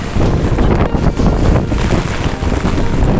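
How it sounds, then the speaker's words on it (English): Loud, continuous wind blasts across the microphone, a dense roaring rush with faint hiss on top and nothing else audible. "It's windy out"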